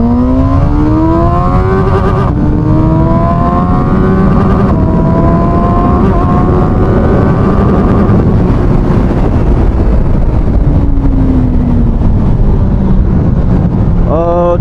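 A CFMOTO 750SR-S motorcycle accelerating hard through the gears with quickshifter upshifts, engine pitch repeatedly climbing and dropping abruptly at each shift, loud and close with heavy wind rush throughout.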